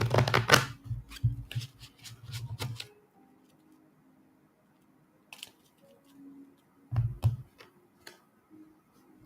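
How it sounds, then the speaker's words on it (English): Someone shuffles a deck of cards for a psychic reading, with a close, rapid flurry of riffling and snapping at the start, a quiet pause, then a second shorter burst of card clatter. "let me give you a quick little shuffle here"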